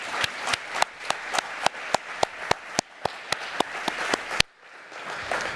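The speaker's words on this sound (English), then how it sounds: "Can we give one more round of applause to these startups" A small audience applauds startups at a vitiligo innovation showcase, with sharp, evenly spaced claps over a soft patter of hands for about four seconds before stopping abruptly.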